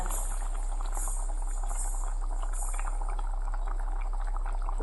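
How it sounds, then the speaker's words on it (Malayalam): A pot of Kerala-style mackerel fish curry boiling steadily, with a continuous close bubbling and popping texture throughout and no talk. "അപ്പോൾ ഇതോ നമ്മൾ മീൻകറി നല്ല തിളച്ച് വെന്ത്"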